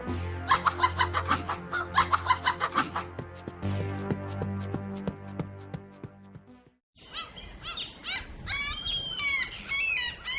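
Several hens clucking and chirping up close in a cartoon farm scene, a dense burst of calls after a loud musical passage, with no talk over it.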